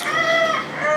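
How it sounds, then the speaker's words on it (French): Chickens wandering a street in Zanzibar, heard as a close, loud burst of drawn-out clucking calls rising and falling over about a second of steady outdoor background. "À gogo des poules."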